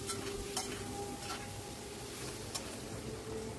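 Thinly sliced potatoes frying in oil over a high flame, a steady low sizzle with light stirring and a few faint utensil clicks against the pan.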